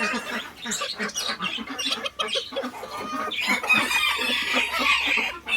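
Several golden Tom Tam Khon Kaen bantam chickens cluck and chatter close by in a busy, continuous flock sound, with higher calls rising toward the end.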